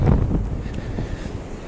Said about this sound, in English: get a look at the waves.